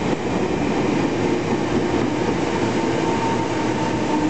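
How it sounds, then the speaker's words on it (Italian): A train pulls into a station in Jakarta, its steady rumble and rolling rail noise loud and continuous throughout with no talking. "Ecco, arriva il treno."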